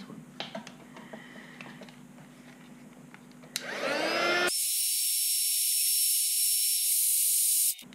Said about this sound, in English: I will try with a heat gun